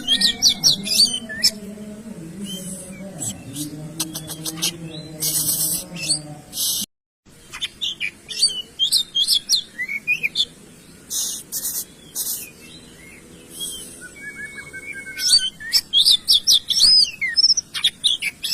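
A caged songbird sits out sunbathing during training, pouring out loud, close chirps, rapid trills and squawking calls in dense bursts, with a brief pause midway and a low hum of other sounds beneath.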